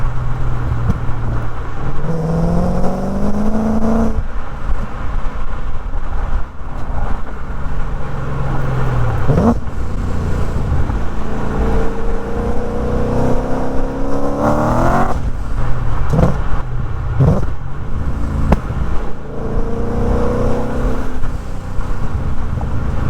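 BMW E39 M5 fitted with a Supersprint exhaust, loud and close, revving repeatedly with rising engine pitch on each pull and dropping back between revs, a continuous roaring drone with no talking.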